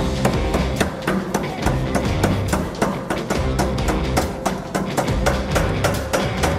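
Loud, rapid mechanical hammering of an Anyang power hammer striking hot steel, steady repeated blows in a fast even rhythm, close up with no talk.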